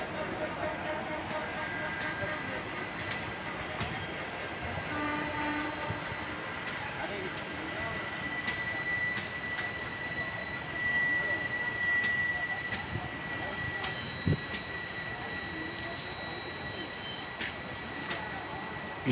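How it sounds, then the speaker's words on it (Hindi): A train on a doubled railway line near Transport Nagar station approaches with a long low rumble and faint metallic squeals and clanks, steady throughout, while people talk in the background. "ट्रेन आ गई।"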